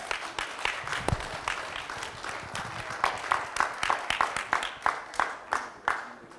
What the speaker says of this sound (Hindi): तालियों में मजा नहीं आ रहा एवरीवन।